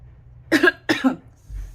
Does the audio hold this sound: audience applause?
no